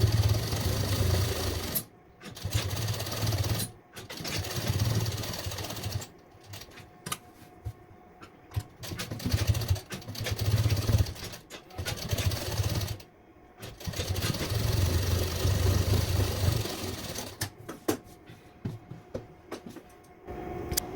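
A sewing machine stitches along the edge of a suit in several bursts of rapid, buzzing mechanical chatter, broken by short silent pauses, close and fairly loud.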